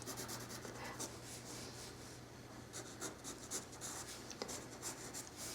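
Colored pencil sketching a bird on paper, giving soft, continuous scratchy strokes that sound close but very quiet, with no talking.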